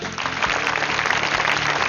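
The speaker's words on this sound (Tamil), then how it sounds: "ஸோ நல்ல ஒரு கைத்தட்டல் கொடுங்க, சூப்பரான கைத்தட்டல்" A studio audience at a Tamil TV game show claps, a loud, continuous burst of applause that stays even from start to finish.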